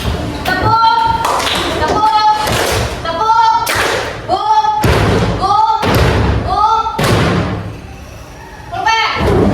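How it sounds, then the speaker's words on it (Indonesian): A classroom group claps in unison in a quick rhythmic pattern, several loud sharp bursts repeated across the clip with children's voices between them. "Tepuk."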